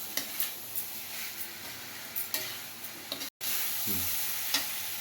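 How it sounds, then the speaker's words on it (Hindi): Frozen peas and mixed vegetables frying in oil with a soft, steady sizzle, while a spoon scrapes and clicks through them at irregular moments, including one brief dropout; no one talks. "मटर को डाल देंगे, ये हमारी फ्रोज़न मटर है, ये इसमें फ्राई हो जाएगी। हम इसे अच्छे से मिक्स कर देंगे।"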